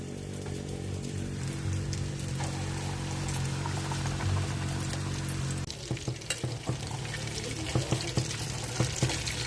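Boorelu sweet dumplings fry in hot oil, a steady dense sizzle with bursts of crackling and spatter as they are stirred and turned, close and continuous without talk.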